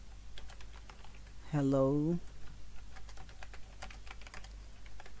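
Fingers tap out a run of quick, uneven keystrokes on a computer keyboard, close and fairly soft, with a short spoken greeting cutting in near the middle.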